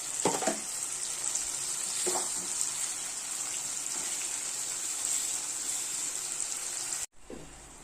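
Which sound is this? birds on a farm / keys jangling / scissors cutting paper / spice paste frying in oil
spice paste frying in oil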